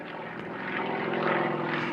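Yak-52 aerobatic propeller aeroplane at an air display, its engine powering up as it pulls into a manoeuvre before a crowd; a loud, steady droning roar that swells slightly and holds throughout, with no talk.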